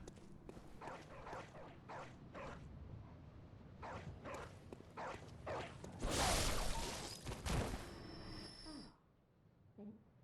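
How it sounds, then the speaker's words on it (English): Dogs in the video game Bloodborne bark in a series of short, evenly spaced yelps, followed by a loud whooshing burst of game action before things quiet down. "If you don't kill those dogs, they ambush you when you cross this bridge."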